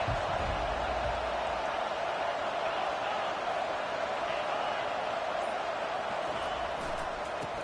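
A packed stadium crowd at a Tennessee college football game sends up a dense, continuous roar that holds steady and loud from start to finish, a broad wash of massed voices with no break or single clear speaker.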